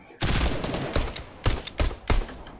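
Gunshots in Fortnite on a Star Wars themed day: a sudden loud burst of rapid fire, then several separate sharp shots spaced at roughly half-second gaps, close and punchy.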